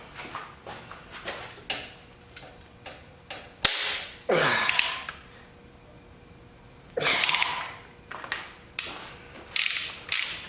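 A hand ratchet works tight engine bolts loose during a 1981 Pontiac Trans Am engine swap, with bursts of rapid clicking, sharp cracks as the bolts break free, and scraping between pulls, fairly close.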